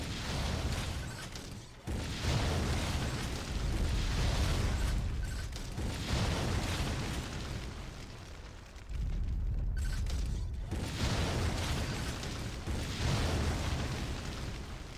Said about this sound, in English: Now I gotta blow all this crap up.